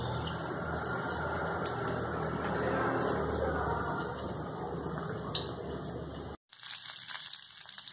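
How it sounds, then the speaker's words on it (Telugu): Tamarind water boils in a pot on the stove with a steady, close bubbling roar and faint crackles that runs unbroken, then cuts off abruptly near the end. "ఒక పొంగు వచ్చింది"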